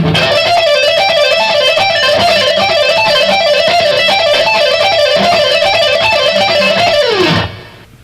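A fast, steady stream of rock electric guitar pull-off notes rolls in an even rhythm, bright and continuous, then stops abruptly near the end.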